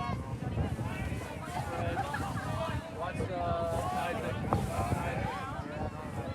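Gusty wind buffets the microphone in a steady roar on a raw night at a high school varsity football game, with voices carrying faintly through it.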